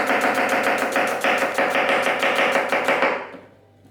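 A knife chops quickly through an onion on a board in a home kitchen, a steady run of crisp close taps about every quarter second for three seconds before stopping into quiet.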